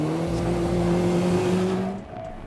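A Mitsubishi Evo 9 rally car races along a stage, its engine holding a loud, sustained tone that sweeps gently upward before dropping off as it moves away.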